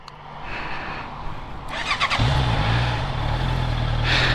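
A 650 motorcycle engine cranks and catches partway through, then settles into a loud, close, steady idle over faint background noise.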